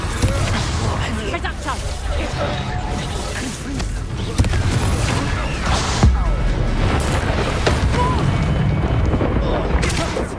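Confringo fire spell blasts in Hogwarts Legacy combat land as heavy booms inside a dense, continuous battle din, with sharper hits standing out around the middle. Voices talk over the action.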